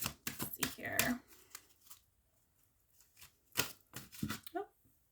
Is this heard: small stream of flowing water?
no